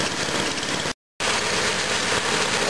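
A snowthrower engine runs steadily and close, a loud, even mechanical drone with the auger and blower turning, broken by a brief cut to silence partway through before the same running sound resumes.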